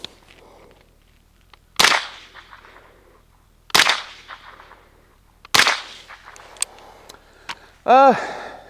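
Three loud supersonic rifle shots fired through a JMac Customs Banka suppressor crack at roughly two-second intervals, each with a brief ringing tail, followed by a short tonal burst at the end.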